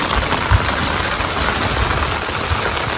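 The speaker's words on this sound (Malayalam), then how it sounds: "മഴ കൂടിയിട്ടുണ്ട്" Heavy monsoon rain falls during village fishing on a Kerala backwater, a dense, continuous hiss of drops hitting surfaces, loud and close, with a few soft thuds and no talking.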